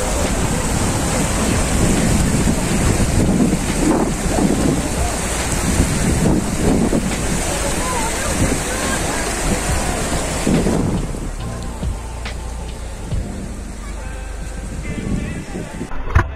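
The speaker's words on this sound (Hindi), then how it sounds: "पानी का फ्लो" Fast-flowing river water rushes loudly beneath a bridge near Sonmarg on the road to Zojila Pass, a dense continuous roar with wind buffeting, fading somewhat toward the end.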